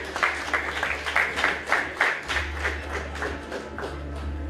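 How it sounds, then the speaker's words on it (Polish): A small crowd claps for an MMA fighter at a weigh-in, a short burst of scattered, moderately loud applause over a low steady hum from the room. "Wielkie brawa oczywiście."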